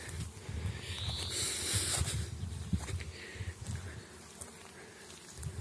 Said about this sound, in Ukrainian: Дуже гарно працює бджола.